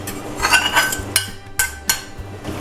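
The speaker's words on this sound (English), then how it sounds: "I'm going to go ahead and add back in our sausage." Cooked sausage is added back into a pan of sausage gravy, bringing close scraping and stirring, then a few sharp metallic clinks of a utensil against the pan, spaced out and clear.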